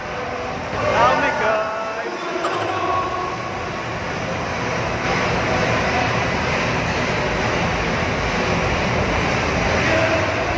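Inside a crowded airplane cabin, engine noise drones as a steady, loud broadband hum throughout, with a brief voice near the start.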